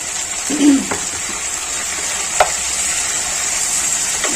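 Pointed gourd and potato pieces, kept soaking in water, go into hot oil with tomatoes, setting off a loud, steady hiss and sizzle, with a brief clatter near the start and a sharp tap midway, close up.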